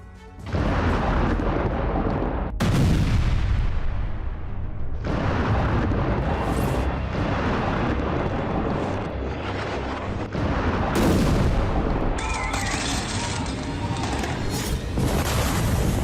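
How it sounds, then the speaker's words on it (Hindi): Rockets fired from Gaza and missile explosions in a night sky during war, heavy booming blasts and roaring rumble that run almost without a break, loud and dense, with several sharp bursts and no voices. "रात के वक्त मिसाइल उगलता आसमान"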